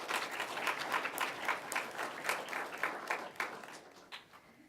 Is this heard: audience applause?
yes